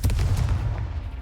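Confringo blasting spell from the game Hogwarts Legacy: a heavy, loud burst of booming, crackling impacts at the start that decays into a rumbling tail.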